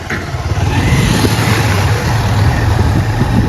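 A vehicle engine approaches from behind on a dark road at night, a loud close hum and rumble that swells steadily and stays strong throughout.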